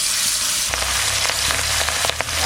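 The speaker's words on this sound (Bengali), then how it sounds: "সর্ষের তেল, তেল গরম হয়ে গেছে, এবার মাছ দিয়ে দেবো।" Hilsa fish goes into hot mustard oil, and a crackling sizzle swells into a steady fry with scattered sharp pops, close up and alone.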